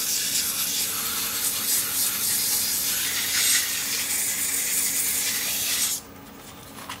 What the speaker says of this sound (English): So that's how I'll sand the inside, and I'll sand that up to 400.